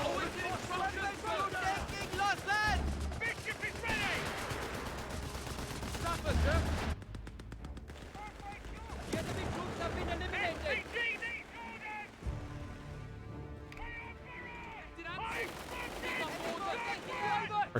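Artillery barrages and gunfire from Company of Heroes 3 rumble and crack in dense bursts, mixed with battlefield chaos and game music while a voice talks over the action.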